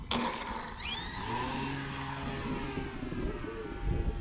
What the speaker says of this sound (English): it sounds like the prop's not out of balance